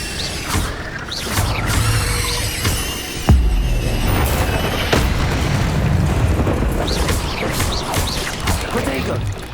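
An Incendio fire spell is cast in Hogwarts Legacy, giving a loud whooshing, roaring blast with booming bursts over a dense, continuous game soundscape, including a sharp impact partway through. A voice is heard amid the action.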